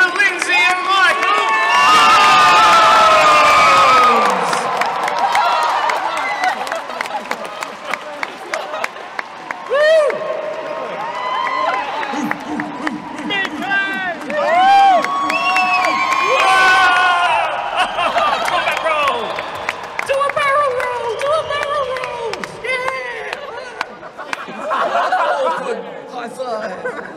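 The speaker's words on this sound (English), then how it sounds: "keep that applause going and give us a great big woo for Lindsay and Michael" A live audience in Perth applauds and gives a loud, sustained woo for Lindsay and Michael, with a broad wash of clapping, cheers and shouting voices over the whole stretch.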